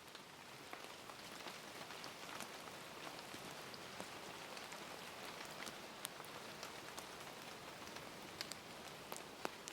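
Steady rain falls outside, a soft, even hiss dotted with the sharp ticks of individual drops, faint and continuous with no voices.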